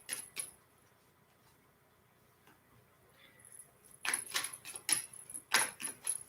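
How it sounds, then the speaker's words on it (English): A Mystic Monday tarot deck being shuffled, quiet at first, then a loud burst of crisp card riffles and slaps in the last two seconds, close up with no talk. "And I'm going to shuffle."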